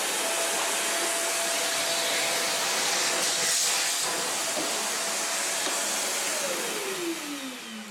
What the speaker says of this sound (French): J'ai pris du temps à chercher l'aspirateur qui va bien.